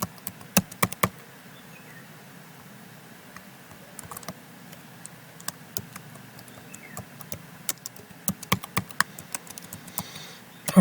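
Password keystrokes on a computer keyboard, a run of sharp, irregular clicks in scattered bursts across the clip with brief pauses between them, close and clear over a low steady room hum, no talking.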